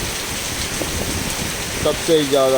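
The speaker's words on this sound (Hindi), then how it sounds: "फिर से थोड़ा सा ब्रेक हुआ था और ये फिर से धुआंधार बारिश।" A heavy downpour of rain in Jammu hisses steadily and densely throughout, with a voice speaking briefly near the end.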